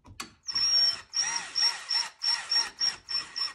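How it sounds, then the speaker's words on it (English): A powered screwdriver drives screws to mount a wired smoke detector, a close whirring buzz in short repeated pulses that starts with one longer run and then pulses rhythmically, with a faint high whine. "Go ahead and use your screwdriver, put that back together, tighten up."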